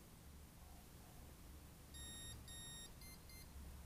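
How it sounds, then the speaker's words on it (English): A quiet drone electronic speed controller beeps in programming mode: two longer tones followed by two quick short beeps, over soft background hiss. "I'm waiting for 2 long and 2 short beeps."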